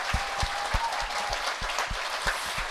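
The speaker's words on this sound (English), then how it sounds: "And a generous round of applause from the crowd here." Steady crowd applause fills a stadium at a football cup final, a dense continuous patter with rhythmic low thumps underneath, heard at moderate distance without talk.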